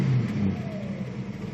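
1963 Ford Falcon engine idling, a steady low rumble with a faint whine, close and even throughout.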